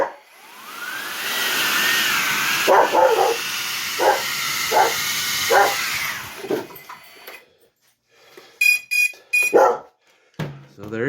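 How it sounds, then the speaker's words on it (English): A dog barks in several sharp bursts over the whine of an armed Eachine Cvatar 6S analog cinewhoop drone with replaced motors, then the motor noise cuts out and more scattered barks follow nearby. "Excuse my stupid dog barking."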